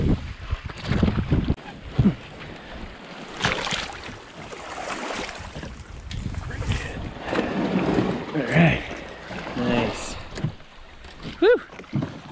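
Oars splash and knock irregularly as a small boat is rowed, with wind buffeting the microphone and brief bits of voice in between.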